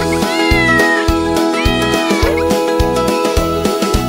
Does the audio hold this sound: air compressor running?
no